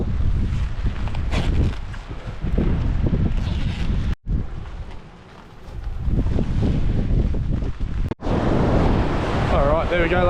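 Waves roll onto Kvalvika Beach in Norway as strong wind buffets the microphone, a loud continuous roar of surf and gusts with a couple of brief dropouts.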